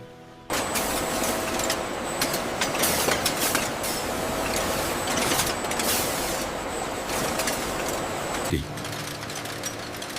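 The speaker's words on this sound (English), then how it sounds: "The raw banana fibers enter the spinning machine, where hundreds of spindles rapidly twist them into strong, continuous yarn." Spinning machine with hundreds of spindles twisting raw banana fibers into continuous yarn in a factory, a loud, steady mechanical whir and clatter running throughout and easing slightly near the end.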